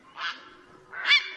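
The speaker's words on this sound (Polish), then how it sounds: "To jest czapla siwa" A grey heron gives two harsh, honking calls about a second apart, loud and close against a quiet background.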